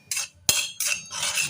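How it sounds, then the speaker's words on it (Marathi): Semolina (rava) being dry-roasted in a pan for upma, heard as short bursts of scraping and stirring from a spoon against the metal pan, with one sharp clink, close and fairly loud with brief gaps between strokes. "अशा प्रकारे आपला रवा छान असा खरपूस असा भाजत आहे"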